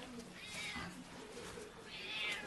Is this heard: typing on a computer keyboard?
no